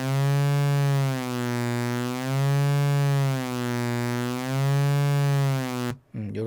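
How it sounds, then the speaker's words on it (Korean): A sustained sine-wave synth tone from the Serum synthesizer, shaped for a lo-fi retro sound, holds steady and loud with slow pulsing swells for about six seconds before cutting off abruptly. "사인파가 좀 과하니까 얘를 좀 더 줄여놓고 써야 될 것 같아요."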